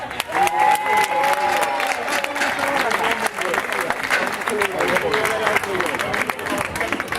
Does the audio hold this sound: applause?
yes